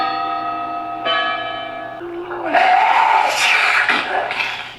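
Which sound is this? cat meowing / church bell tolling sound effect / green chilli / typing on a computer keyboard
church bell tolling sound effect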